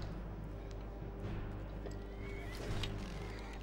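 A horse in the video game Skyrim, with hoof clip-clops and a brief whinny over a steady game ambience and low hum, moderately loud and continuous throughout.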